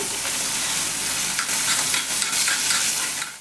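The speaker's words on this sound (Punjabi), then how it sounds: "ਆਪਾਂ ਪਨੀਰ ਜਿਹੜਾ ਹੈ ਇਦਾਂ ਭੁੰਨ ਲਵਾਂਗੇ" Paneer frying in hot oil, a steady close sizzle with soft scraping stirs through it and no talk.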